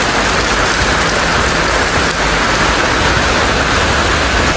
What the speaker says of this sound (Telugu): బయట వాన కూడా ఘోరంగా పడుతుంది.